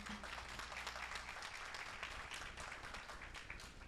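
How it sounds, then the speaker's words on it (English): An audience at a startup pitch summit applauds the presenting startups, steady clapping filling the room at a fairly quiet level with no voices over it. "Please give them a huge round of applause."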